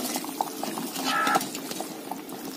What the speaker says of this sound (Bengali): চলো তরকারিগুলো ভালো করে সিদ্ধ হোক, ততক্ষণ ফুটুক